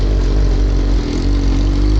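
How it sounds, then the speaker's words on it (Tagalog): A Yamaha XJ6 motorcycle's exhaust revs loudly and close up, with a steady, throaty mid-range engine roar across the whole short stretch and no speech. "Ganda na tunog. Yamaha XJ6."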